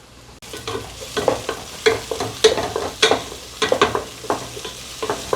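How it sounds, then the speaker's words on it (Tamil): Onions sizzle in a hot pan as a utensil scrapes and stirs them in repeated strokes, close and clear. "வெங்காயம் எரிய வலிக்கிட்டுறோம்."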